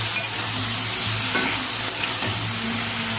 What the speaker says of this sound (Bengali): ওই তেলের মধ্যে আলুগুলো দিয়ে দেবো, আলুগুলো ভেজে নেবো